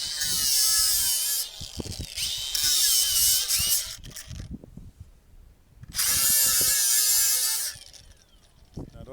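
A Milwaukee cordless power tool cuts close into salvaged wood flooring in two long, loud, whining bursts separated by a quieter gap with scattered handling knocks nearby.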